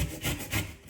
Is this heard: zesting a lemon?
yes